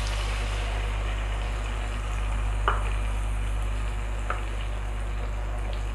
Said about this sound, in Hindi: अब हम इसमें डाल देते हैं ये टोमेटो प्यूरी।